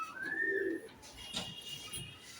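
A pigeon coos softly and close by, a low throaty call, with faint background ambience around it.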